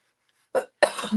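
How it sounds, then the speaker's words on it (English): Two quick, close coughs break the silence, the second one harsher and trailing off into a rasp. "I'm going to start coughing"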